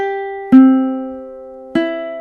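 Ukulele picking measure 21 of a song: two plucked notes ringing out and decaying, close and clear, with no voice.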